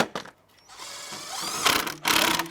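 A screwdriver drives a screw while building a kids' musical-tubes DIY project, giving a close, steady grinding whir with a short pause and a second burst near the end.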